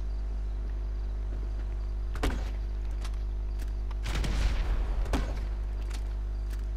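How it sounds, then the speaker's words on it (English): A grenade launcher fires in Grand Theft Auto, with bursts of blast noise over a constant low game hum: one brief burst, then a louder, longer explosion and a final short crack. "Hang on, I have grenade launchers."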